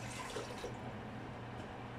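Water is poured into a pot for cooking noodles, a brief steady gurgling fill with a low rumble, moderately quiet and continuous for about two seconds with no talk.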